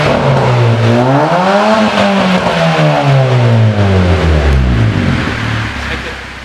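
A Honda Brio car engine, checked for exhaust smoke after flood exposure, revs up loudly, dips, then climbs again before settling and fading, heard close with no talking.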